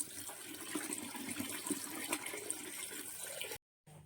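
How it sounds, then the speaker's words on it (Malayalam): Salted fish pieces are washed in water, a soft, steady splashing and trickling close by. It runs quietly and without a break, then cuts out briefly near the end before resuming. "അപ്പൊ ഇനി നമുക്കിത് കഴുകി വൃത്തിയാക്കി എടുക്കാം"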